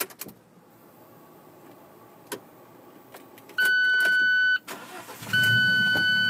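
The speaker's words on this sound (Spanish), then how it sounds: "vamos a prenderlo para escuchar el motor de una vez." An Alfa Romeo 4C sports car engine starts: a few clicks and a high whirring crank, then the engine catches with a low, steady rumble and a thin whine.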